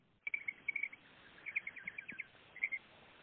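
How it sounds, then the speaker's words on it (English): Birds calling outside a house at night, giving a steady run of short, high, repeated chirps in quick bursts, fairly close and clear over a faint background hiss, with no talking. "there are birds around the house, and they're very loud, especially at night"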